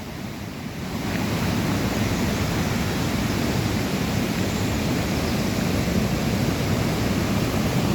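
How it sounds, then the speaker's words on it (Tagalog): Waterfalls in Geiranger, Norway, give a steady broadband rush of falling water heard from outdoors. It rises within the first second and holds evenly, with some wind noise and no talking. "You see waterfalls guys."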